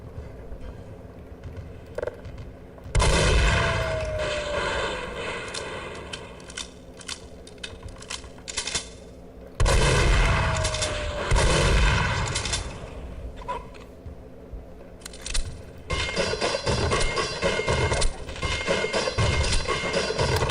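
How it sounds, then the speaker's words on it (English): Gunfire in the Half-Life game Echoes, loud automatic bursts from a weapon such as an MP5 in sustained volleys of several seconds separated by quieter gaps with single shots and clicks. "I think the gun sounds in this have been changed."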